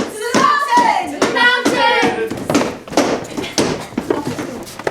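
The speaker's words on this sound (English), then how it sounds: "Clap your hands." Hands clap in a series of sharp, fairly loud strikes at an uneven pace, partly covered by a voice that speaks or chants over them the whole time.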